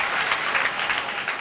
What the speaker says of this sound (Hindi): तालियां आपकी कमजोर है मेरे भाई, एक बार जोरदार तालियां